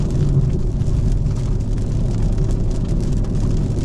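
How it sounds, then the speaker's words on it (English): A dense, steady patter of rain drums on the roof of a BMW M340i, mixed with a low engine and road rumble, loud and continuous. "Do y'all like the sound of rain hitting the car?"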